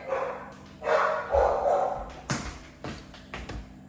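A dog barks several times at moderate distance, with short sharp yips spread unevenly among rustling and background noise, fairly faint overall and with no voice over it.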